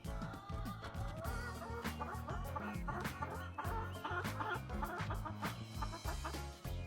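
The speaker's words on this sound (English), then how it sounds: "I see chickens." Chickens clucking on a farm, a busy, close run of overlapping clucks and squawks that goes on without a break, with no talk over it.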